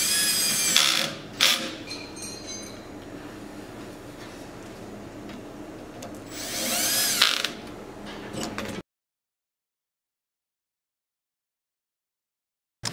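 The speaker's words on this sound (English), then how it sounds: "At this point, they're mounting the remaining 2 brackets onto the table." Brackets are fastened onto a concrete ping pong table with a power tool, giving two short bursts of ratcheting, whirring tool noise early on and a longer burst a few seconds later, all over a steady background and followed by silence.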